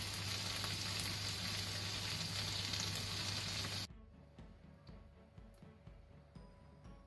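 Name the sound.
pomfret fish ghee roast frying in a pan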